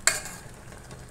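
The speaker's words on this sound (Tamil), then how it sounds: "டம்ளர் வச்சு நல்லா கலந்து விடுங்க" A tumbler scrapes and stirs through amaranth greens in a pan, two sharp clinks at start and end with soft sizzling between.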